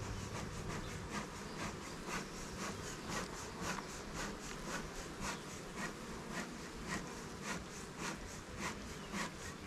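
Agitated honey bees swarm at an opened hive, their buzzing loud and close, pulsing in rapid, regular surges as they fly around.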